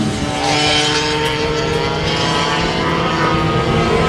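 Vintage racing karts roar along the track at a vintage karting meet, a loud steady engine drone filling the whole stretch without pause.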